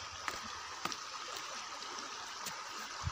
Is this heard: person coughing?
no